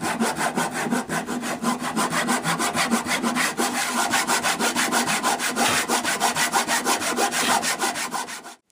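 Hand saw cutting dovetail lines in wood for a grease box, a steady rapid rhythm of rasping back-and-forth strokes, close and loud, continuous with no talking.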